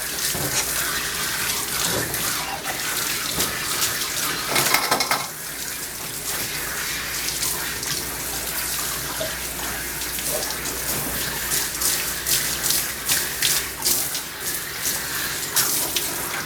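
Tap water runs steadily into a sink or tub while a poodle mix is rinsed of soap during grooming, a continuous close splashing wash with faint clinks and no talk.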